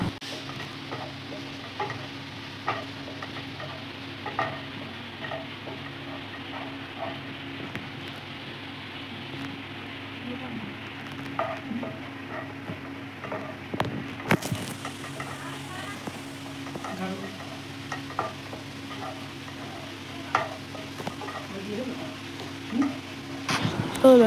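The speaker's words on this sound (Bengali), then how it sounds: "তো এই যে মা নাড়ছে, ক্যারামেলটা কিন্তু খুব সুন্দর করে হচ্ছে।" Caramel being stirred in a pan over a low flame at home, a soft continuous scraping and faint sizzle running steadily throughout, with small clicks of the spoon against the pan.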